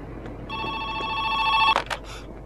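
A telephone rings in a horror video game diner, a sustained electronic bell tone that builds for about a second before cutting off, followed by a couple of short clunky knocks.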